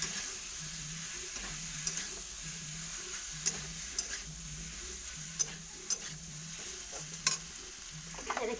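Jackfruit pieces stir-fried in spices for a jackfruit and rohu fish broth, a quiet steady sizzle with rhythmic scraping stirs of a spatula and occasional light taps against the pan.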